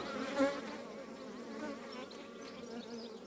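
Honey bees buzzing steadily in an open beehive with larvae-filled comb, a close, continuous dense hum with no talk.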